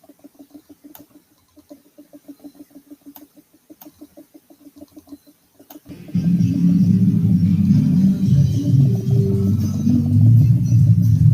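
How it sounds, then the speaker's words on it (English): A tropical storm rages outside a house, played back from a phone recording: after a quiet stretch of faint rhythmic pulsing, a loud, dense roar of wind and rain bursts in and continues steadily to the end. "This was the tropical storm."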